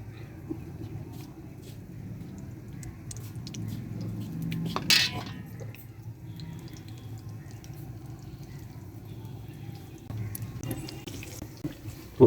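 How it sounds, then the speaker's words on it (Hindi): Bread slices coated in spiced besan batter fry in hot ghee with a steady close sizzle, rising to a brief louder hiss midway and again at the end; no one talks. "तो अच्छी तरह से इनको फ्राई होने देंगे।"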